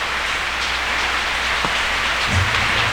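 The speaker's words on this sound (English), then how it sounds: "Got a little tropical rain happening." Steady tropical rain pours down in Costa Rica, a dense continuous hiss of drops on surfaces, fairly loud and unbroken, with a brief low rumble near the end.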